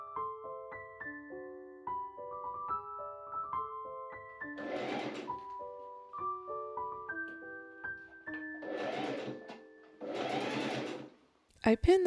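A domestic sewing machine runs stitching rows of gathering stitches on fabric, three or four short whirring bursts of several seconds each heard over a melodic tune in the background, ending with a couple of clicks.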